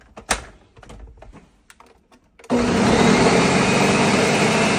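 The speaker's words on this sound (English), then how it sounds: "Place the lid on that and blend it until it is nice and smooth." Blender switching on abruptly to a loud, steady whir while blending flan de queso mixture with egg yolks and vanilla, after a few soft clicks and taps.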